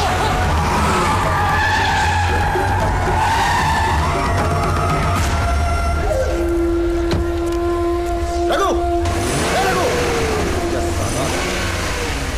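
Car engine cranking to a start and revving hard, tires skidding and squealing in an action movie scene, loud and dense with music and voices mixed in, a sustained tonal squeal in the middle.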